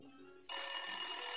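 An electronic telephone ring from the Handy Manny V.Smile video game, a bright buzzy tone that kicks in abruptly after a faint lower musical note and holds steady to the end.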